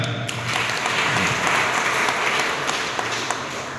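A crowd of parents and staff at a school social audit meeting in Ramgurwadi, Khanapur, applauds the schoolchildren. The dense, even clapping is fairly loud and continues throughout.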